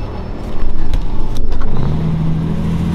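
Interior of a truck on the road, a steady engine and road rumble with a slight rise in engine pitch partway through, close and continuous with no talk.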